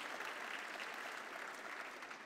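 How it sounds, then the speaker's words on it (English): Steady applause from an audience at a Ukrainian-Canadian community event, honoring Chrystia, a continuous wash of hand clapping that holds evenly across the whole stretch without a break. "big round of applause for Chrystia"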